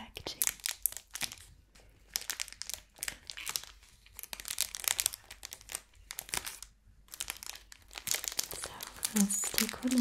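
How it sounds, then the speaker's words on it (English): Packaging is crinkled and crumpled up close in quiet ASMR-style bursts of crisp rustling, with pauses between handlings and soft talk heard in places. "I love the crinkly sound of the packaging."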